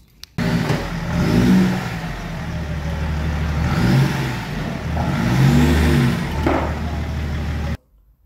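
A BMW E36 with a swapped M57 diesel engine drives in close by, its mid-pitched engine note rising and falling through revs over several seconds before cutting off abruptly.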